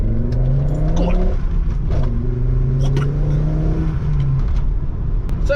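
A Volvo T5-R engine with a blowing exhaust revs up and down several times nearby, its pitch rising and falling in repeated sweeps over a loud steady drone, with a voice faintly heard beneath.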